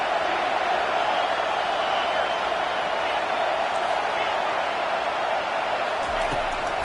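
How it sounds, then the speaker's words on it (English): Stadium crowd roaring in a college football video game on a third-down defensive play, a steady dense wall of cheering noise with no distinct breaks, commentary voices beneath. "Decibels rising as the crowd gets behind this defense on third down."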